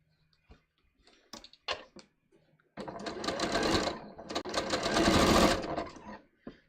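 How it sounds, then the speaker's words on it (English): A sewing machine stitching a bias cut scoop neck top, a few light handling ticks and single stitches first, then two sustained runs of rapid close mechanical whirring and clatter, with no talking. "So let me just sew along here."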